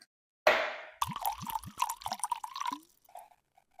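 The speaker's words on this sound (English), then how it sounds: "Notice I poured you a pretty big glass." A drink is poured into a glass, beginning with a splash and then a gurgling, glugging stream with rising pitch as the glass fills, close and clear, followed by a few faint drips.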